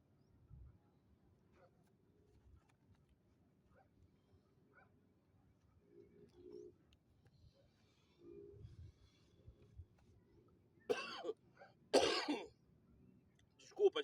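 A woman coughs hard twice near the end, loud and close, after a long stretch of faint, quiet murmuring and soft sounds during an outdoor prayer on a mountain.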